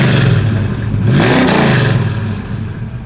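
The engine of a 1972 Chevrolet Camaro revs close by, the throaty roar rising in a single swell before settling back, with no speech.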